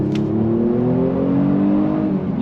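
A 2023 Kia Stinger Tribute Edition accelerating hard, its engine note climbing steadily in a loud, continuous rising drone heard close from inside the car, with no talking.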